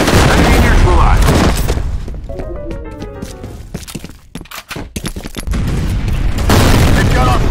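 Grenade blasts and gunfire in the shooter game F.E.A.R. multiplayer: loud booming explosions open and close the stretch, with a volley of sharp cracking shots in between, all close and harsh.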